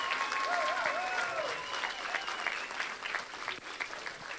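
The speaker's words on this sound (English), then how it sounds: "Please give them another round of applause." A crowd at a school senior promotion ceremony breaks into loud, continuous applause for the graduates, with a few high whistles rising over the clapping early on before it thins slightly toward the end.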